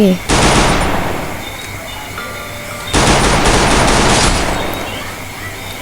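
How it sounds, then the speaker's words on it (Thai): Bursts of automatic gunfire from the shooter game Free Fire: two loud sustained volleys of rapid shots, each lasting over a second, separated by a quieter gap with lingering game ambience. "เบอร์สามกำลังโดนยิงอยู่"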